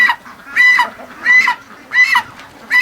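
A goose honks in four loud, evenly spaced bursts near a gate by a lake, each call a harsh, nasal blare with quieter gaps between.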